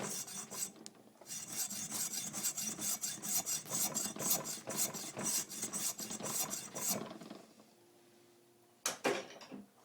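A nagura stone is rubbed back and forth along a sharpening stone to cut a groove down its center, a steady rasping scrape in quick repeated strokes that stops, then resumes briefly near the end.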